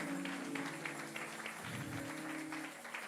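A church congregation applauding during a closing service of an annual retreat: steady dense clapping from many hands, moderately loud and continuous, with a sustained hum of voices and music underneath.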